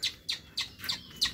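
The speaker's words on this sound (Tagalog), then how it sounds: "Aba, naunahan pa kami ng ibon kumain." Outdoors on a hiking trail, a small bird gives five quick, high chirps in an even rhythm, faint and fairly close, with no talk.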